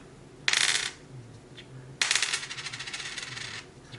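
A copper-clad dime or quarter is dropped twice: a short bright clink, then a second drop that rings and rattles with quick bounces before settling, in a quiet room.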